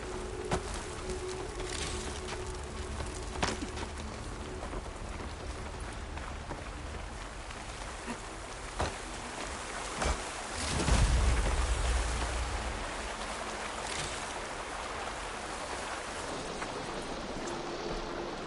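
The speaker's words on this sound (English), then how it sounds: "Rain." Steady video game rain hiss from Horizon Forbidden West, with scattered drips and a brief low whoosh midway, continuous and moderately quiet with no talking.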